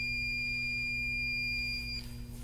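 An HVAC multimeter set to continuity test sounds a steady, high-pitched electronic buzz that holds unbroken for about two seconds before cutting off, over a low background hum.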